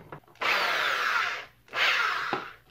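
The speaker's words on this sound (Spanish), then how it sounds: "Vamos a conectar esto, a ver si con esa broca podemos abrir el hueco." A power drill fitted with a bit bores a hole in a cable-stripping setup, running in two loud, sustained whirring bursts separated by a short pause, close and clear with no talking.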